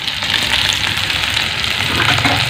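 Corned beef frying in a pan, a dense close crackling sizzle that runs steadily throughout without any talking.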